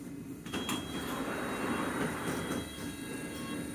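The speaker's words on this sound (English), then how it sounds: "This is a District Line train to Upminster." A London Underground District line train rumbles steadily at Turnham Green station, a close, continuous rolling hum with faint clanks and a light hiss.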